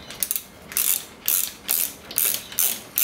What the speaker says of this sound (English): I'll just quickly tighten that one up.